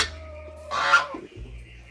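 Country chickens at a resort farm in Kottiyoor Valley call near at hand, with one short raspy squawk standing out over a quiet low hum.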